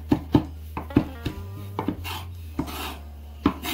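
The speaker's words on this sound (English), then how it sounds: "Remember, we're chopping it fine." A knife chops garlic finely on a cutting board, with a quick series of sharp, close taps that come in short bursts and pauses, and no talking.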